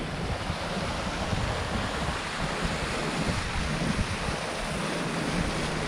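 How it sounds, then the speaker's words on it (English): A waterfall in a ravine in a Saskatchewan field gives off a steady broadband rushing roar that stays constant throughout, with some wind buffeting in the background. "We got a waterfall in Saskatchewan."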